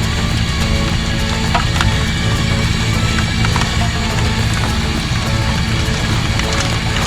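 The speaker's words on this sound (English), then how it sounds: "It's raining." Steady rain patters continuously on surfaces nearby at a pond, a dense even hiss with scattered sharper drops and no voices.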